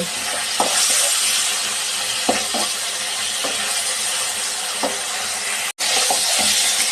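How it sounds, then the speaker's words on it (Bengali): Cauliflower florets fry in a pan with a steady, close sizzle and steam hiss, broken by a few sharp scraping knocks as they are turned and stirred. No one speaks. "ফুলকপিটা উল্টিয়ে পাল্টিয়ে ভালো করে নেড়ে চেড়ে ভেজে নিব।"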